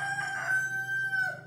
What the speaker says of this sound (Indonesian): ayam lagi